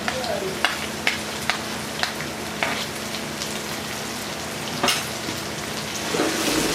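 Ginger, garlic and ground green chillies sizzle in hot oil in a pan, a steady dense crackle with occasional sharper pops and faint stirring knocks, fairly close and continuous without talk.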